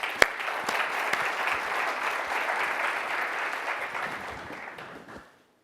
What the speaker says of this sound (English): I give yourself a round of applause.